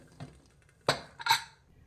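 A cooled pressure cooker lid is opened after cooking tomato rice, giving two sharp metallic clinks of lid against pot amid a quiet kitchen.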